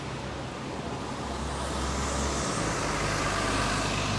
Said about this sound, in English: There's a tourist bus.